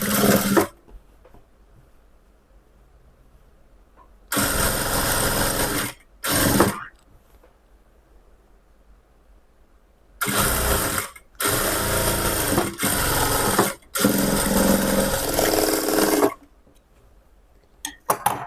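A sewing machine stitches a lining blouse in several loud bursts of rapid mechanical whirring, separated by quiet pauses, with one long run near the end.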